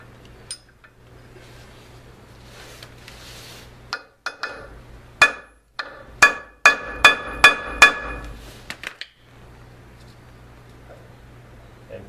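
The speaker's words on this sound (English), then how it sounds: "Tap on it and you will actually be able to loosen up the cone washer." Metal-on-metal tapping from a hammer striking a drift punch against the cone washer on the front hub of a 1985 Toyota 4x4 pickup, heard as a close run of about eight sharp, ringing taps with short pauses, no talking.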